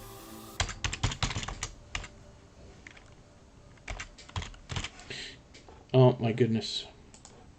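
Typing on a computer keyboard comes in quick bursts of close, crisp key clicks separated by pauses, and a person speaks briefly over the clatter near the end.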